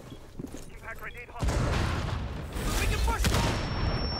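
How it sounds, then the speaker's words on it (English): Grenade blasts in the tactical shooter Rainbow Six Siege, with a deep rumbling boom arriving partway through and lingering under a second swell, mixed with faint game noise and scattered distant shots. "2 grenades coming out."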